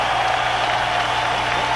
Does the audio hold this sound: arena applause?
yes